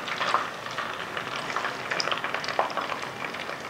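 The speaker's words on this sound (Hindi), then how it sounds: "फिर मैं प्याज फ्राई करती हूँ" Onions frying in hot ghee, a steady soft sizzle and crackle with occasional small pops, moderately close and continuous with no voices.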